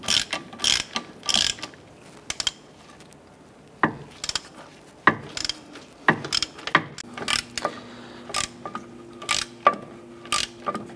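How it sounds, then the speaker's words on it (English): Ratchet with a 13 mm socket and extension loosening wheel hub bolts on a 2006-2013 Chevrolet Impala, giving bursts of sharp clicking at close range, separated by short pauses and small metallic clunks. "We're gonna use our 13 millimeter socket and extension to go ahead and loosen these bolts."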